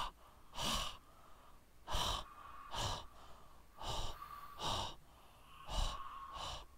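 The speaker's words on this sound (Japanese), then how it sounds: "めっちゃ息切れとるやね。" A video game character panting heavily, about eight breathy gasps in a steady rhythm, close and clear with no talk over them.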